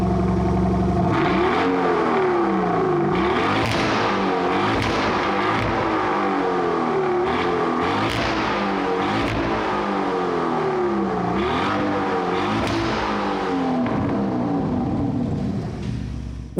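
2025 Lamborghini Urus SE hybrid SUV with quad exhaust pipes, revving repeatedly with rising and falling engine pitch, loud and close, a continuous throaty roar lasting throughout.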